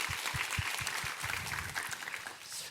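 A church congregation claps together after a chamber music performance, a dense wash of applause with some rhythmic clapping beneath, heard from a moderate distance.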